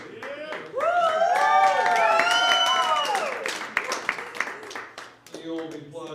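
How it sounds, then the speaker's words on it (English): Audience applause in a comedy club swells and holds for a few seconds. It then tapers into scattered claps as a comedian's voice returns over it. "You won't be applauding after you hear me play"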